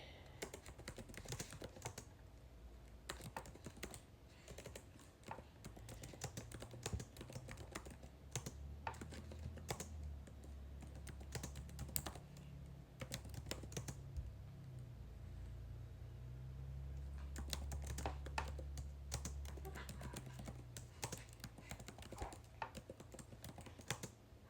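Steady typing on a computer keyboard in a home work-from-home setting, a continuous stream of close, light key clicks with occasional louder taps, running without speech over a low background hum.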